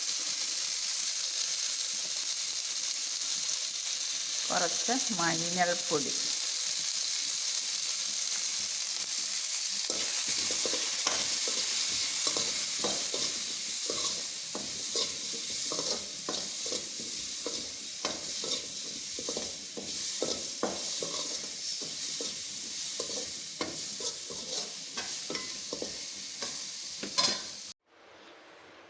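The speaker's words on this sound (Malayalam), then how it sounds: "റംബൂട്ടാൻ നല്ല നീരല്ല, അതുകൊണ്ട് പൊടിപൊടാന്ന് പൊട്ടുക. ഭയങ്കര സൗണ്ട്." Chopped rambutan fruit crackles and sizzles in hot oil in a pan while being stirred, a steady loud frying hiss with scraping spoon strokes and popping. Someone speaks briefly early on, and the sizzle eases off before cutting out at the end.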